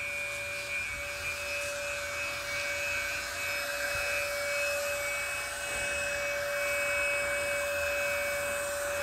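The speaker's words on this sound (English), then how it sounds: "letting the electric pump do what it does" An electric pump inflates a SWONDER inflatable paddle board, a steady motorized whine with a sustained tonal hum that runs unbroken and fairly loud, no voices.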